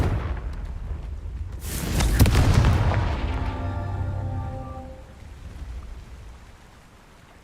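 In Hogwarts Legacy, the Confringo blasting spell sets off a booming explosion that flares suddenly, then trails into a rumbling, crackling decay with ringing tones fading over several seconds.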